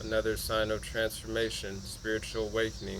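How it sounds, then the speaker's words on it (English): A cicada buzzes steadily in the background beneath a person talking continuously up close. "There's a cicada in the background."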